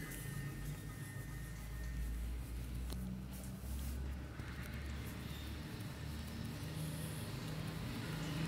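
Mixed car and motorcycle traffic rolls past steadily on a nearby road, with a continuous low engine rumble and a few louder swells as individual vehicles go by.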